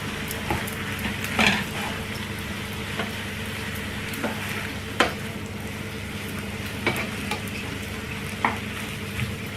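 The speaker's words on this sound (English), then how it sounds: "Just squeeze a little into that and you mix it around." A spoon stirring hot chili sauce into food sizzling and frying in a pan, with a steady crackle and occasional scraping clinks against the pan, close and moderately loud.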